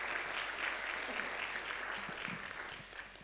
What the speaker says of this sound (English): let's give them a round of applause and our gracious thank you